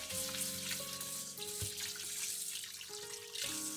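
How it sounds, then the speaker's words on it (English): Water runs and splashes over uruchi rice in a bowl during rinsing, a soft continuous trickle and slosh at close range with faint tonal hum in the background. "I rinse the rice with the water. I add the water to it."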